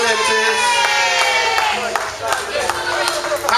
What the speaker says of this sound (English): Give Harry a big round of applause